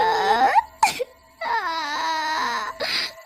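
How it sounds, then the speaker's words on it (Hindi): Woman's sobbing cry in an animated Hindi ghost story set at a haunted school, wavering wails in two bursts separated by a sharp gasp, close and loud with no speech. "बबलू को अचानक किसी औरत के रोने की आवाज आती है।"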